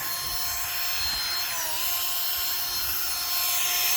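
A small 1.5-inch EVEAGE garden auger bores into soil, giving a steady, loud, whirring grind that continues unbroken throughout, with no voices.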